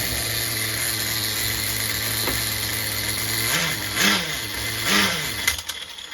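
An HPI MT2 RC truck's small nitro engine buzzes close and loud at a steady high pitch, wavers through a few surging revs, then sputters and cuts off near the end.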